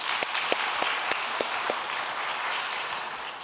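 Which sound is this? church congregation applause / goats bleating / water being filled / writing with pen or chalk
church congregation applause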